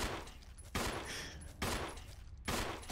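Gunfire from Resident Evil, three loud, sharp bursts of shots spaced about a second apart over a steady, noisy background.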